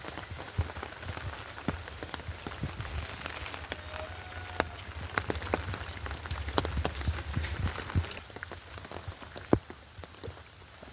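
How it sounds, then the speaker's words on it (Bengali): Steady rain falls on outdoor surfaces on a wet day, a dense patter of close drips and splashes with scattered sharper taps, continuous and moderately loud with no talking. "সকাল থেকে বৃষ্টি হচ্ছে"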